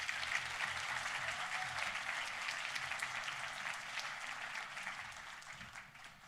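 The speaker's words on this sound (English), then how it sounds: "A round of applause again for Michael Alford, everybody" A packed crowd at a 2025 soccer national championship celebration gives sustained, dense applause that holds steady and loud throughout, with no voices standing out.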